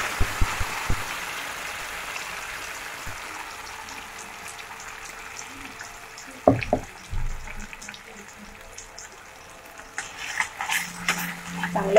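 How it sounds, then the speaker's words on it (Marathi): Garlic masala paste fries in oil as it is stirred, a low steady sizzle broken by scraping spoon strokes, with a sharper burst of stirring noise midway and busier crackling toward the end. "चांगलं तेलावर असं परतून घ्यायचं आहे।"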